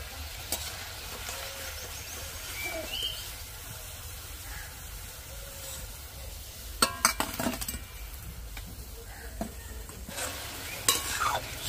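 Potato and noodle snack pieces fry in hot oil with a soft continuous sizzle, fairly faint, broken by a few clinks and scrapes of a utensil stirring against the pan.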